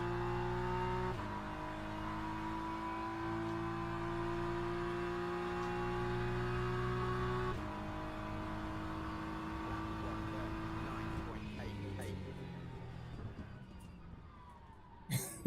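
A Ferrari race car in the sim racing game Le Mans Ultimate holds a steady, droning engine note, shifts pitch twice, then drops away into fainter mechanical rattles and a sharp knock at the very end.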